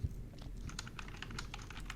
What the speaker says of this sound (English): that typing is very loud